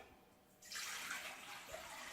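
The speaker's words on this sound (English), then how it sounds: "first we start to put the lukewarm water in the mixing bowl" Lukewarm water pours steadily into a mixing bowl, a broad splashing rush starting after a brief quiet moment and continuing loud and close to the end.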